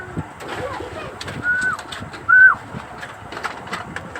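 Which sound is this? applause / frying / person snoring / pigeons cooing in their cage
pigeons cooing in their cage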